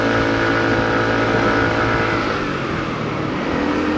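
A motorbike engine drones steadily while being ridden in cold weather, a loud, constant hum with a low rumble that eases slightly toward the end, with no talk over it.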